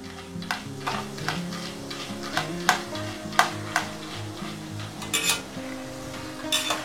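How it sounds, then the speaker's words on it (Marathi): Chivda ingredients deep-fry on a low flame in oil with a soft, continuous sizzle, while a metal utensil clinks and scrapes against the pan at irregular intervals over quiet background music. "लो फ्लेमवरतीच हे 2 ते 3 मिनिटं असे तळून घ्यायचे आहेत"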